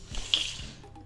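A can of Tusker Malt beer is cracked open up close, giving a single short sharp pop followed by a brief fizzing hiss.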